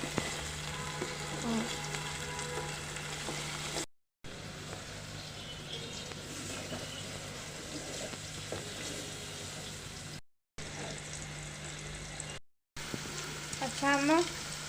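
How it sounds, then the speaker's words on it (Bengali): Cauliflower stalks fry in a pan with a steady, close sizzle that carries on throughout, broken only by a few brief cuts to silence, with a little faint stirring near the end. "কিছুক্ষণ ভাজতে হবে বুঝছো ভেজে তারপরে"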